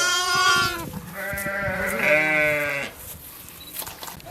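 Two long, wavering bleats ring out close by from sheep and newborn lambs, one ewe having borne six lambs at once, followed by quieter shuffling and faint calls.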